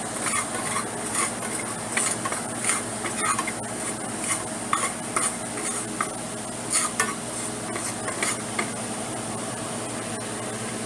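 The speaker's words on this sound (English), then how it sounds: "So I am dry roasting the mustard seeds and the turmeric powder." Mustard seeds and turmeric powder dry-roasting in a pan on a stove, with steady scraping and stirring plus light metallic clinks of a utensil against the pan over a constant background hum.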